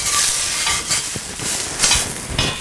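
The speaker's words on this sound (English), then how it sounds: "I'm going to just fold the omelet over." A mushroom and cheese omelette sizzling loudly in a pan as a utensil folds it over, with brief scrapes and bursts of frying noise over a continuous hiss.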